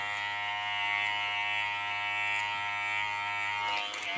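Electric hair clippers buzz steadily while cutting hair at home, a close, loud, continuous hum with a slight change in tone near the end as the blade moves through hair.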